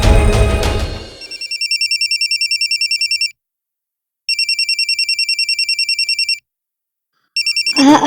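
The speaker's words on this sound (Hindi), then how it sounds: "पार्लर से फोन आ रहा है" A telephone rings in a home with a repeated electronic trill, sounding in two long bursts separated by silence before a third begins. It is loud and clear, with a brief jumble of other sound at the start and end.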